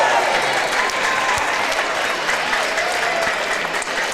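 A large, loud crowd cheers and claps at a high school basketball game in South Decatur, with a dense, continuous roar of applause that carries steadily through the whole stretch.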